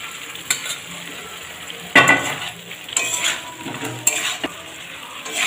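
Potatoes tumble into spiced oil and masala paste for chhanar dalna, setting off a close, steady sizzle with repeated scraping and stirring clatters of a utensil against the pan.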